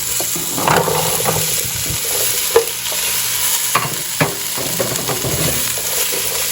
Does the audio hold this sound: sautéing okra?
yes